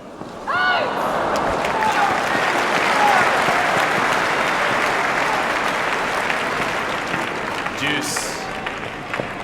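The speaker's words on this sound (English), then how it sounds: "Crowd loves the reaction of Lisicki." A large Wimbledon crowd applauds on the grass courts during the 2013 fourth-round match between Serena Williams and Sabine Lisicki. The clapping is loud and sustained through the whole stretch, with a few brief cheers rising above it.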